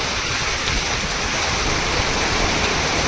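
Heavy rain pours down on Laxmi Road in Manchar town, Ambegaon taluka, in a steady, dense roar, loud and continuous throughout, with no voices.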